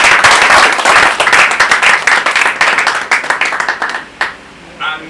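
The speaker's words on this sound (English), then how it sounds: "Please, a round of applause" A crowd at a football league press conference and season unveiling breaks into a round of applause, dense clapping that thins into scattered claps and then dies out near the end.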